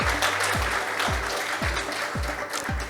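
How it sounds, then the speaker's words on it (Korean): An audience at a green-building awards ceremony applauds the winners with a continuous wash of clapping, while a deep thump repeats about twice a second underneath, like a music beat. "다시 한번 진심으로 축하드리면서 여러분 큰 박수 부탁드리겠습니다."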